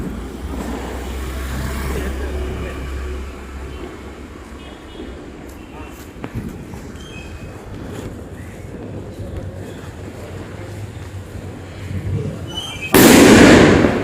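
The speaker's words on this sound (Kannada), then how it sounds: "ಮಕ್ಕಳಿಗಿಂತ ಅವರೇ ತುಂಬ ಜೋರಾಗಿ ಪಟಾಕಿನ ಹಚ್ತಾಯಿದ್ರು" Outdoors, a single sharp, loud firecracker burst goes off near the end, after a long stretch of low rumbling background noise.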